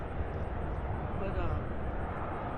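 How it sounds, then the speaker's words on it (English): A Delta Boeing 767 airliner taxiing at Louisville International Airport, heard as a steady, loud, broadband jet engine roar that holds without a break. "after the two C-17s, the Delta 767 taxied out, and he had a UPS 747 right behind him"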